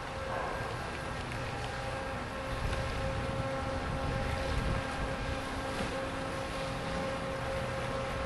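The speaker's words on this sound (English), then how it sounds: "On this side, we got a nice little boat coming in again." A boat engine drones steadily at a distance as a boat comes in at a boat launch park in Pompano Beach, Florida, mixed with wind rumbling against the microphone, with no voices.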